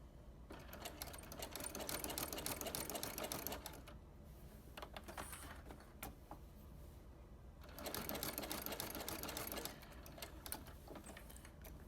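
A sewing machine stitches fabric in a steady, rapid mechanical whir that runs in two long stretches separated by a slight easing off, close and continuous with no voices.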